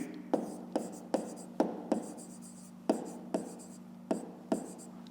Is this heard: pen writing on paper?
yes